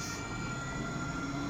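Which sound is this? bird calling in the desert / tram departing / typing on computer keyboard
tram departing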